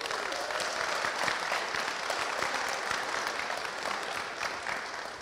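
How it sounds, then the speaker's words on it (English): Sustained applause from a live crowd at a Manchester wrestling podcast recording, a dense, continuous patter of many hands that stays fairly level for several seconds with no talk over it. "And by a round of applause, who has traveled to be here?"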